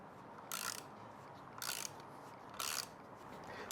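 Ratchet wrench loosening bolts on a 2021 Yamaha MT09 SP motorcycle while a radiator guard is fitted: three separate bursts of rapid metallic clicking, close and fairly loud, spaced about a second apart with quiet room noise between.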